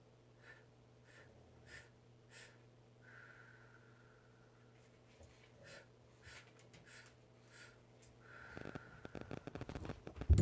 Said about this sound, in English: It'll be a 4-part inhale, 1 part exhale, done through an O-shaped mouth.